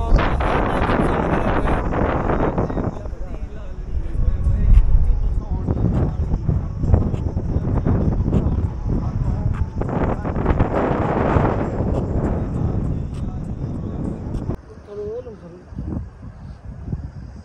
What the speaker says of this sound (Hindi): इतनी तेज हवा चल रही है कि बैलेंस बनाना मुश्किल हो रहा है इधर